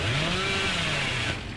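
Bubba's chainsaw revving in the Dead by Daylight video game, a steady loud buzzing motor with a rising pitch sweep that drops off slightly near the end, with no talk over it.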